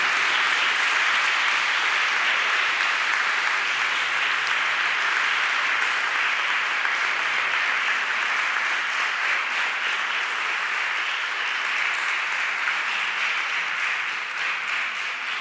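Sustained, thick applause from an audience at an institutional event of a foster families association, loud and unbroken for the whole stretch.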